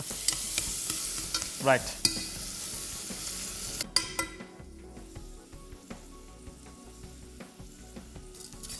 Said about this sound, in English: Now onion generally takes a very long time to cook.